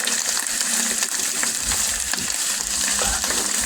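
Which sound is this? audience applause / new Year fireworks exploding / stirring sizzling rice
stirring sizzling rice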